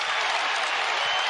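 A basketball arena crowd roars and claps during a Louisville scoring run, a dense, loud, steady wash of cheering and applause that fills the whole moment.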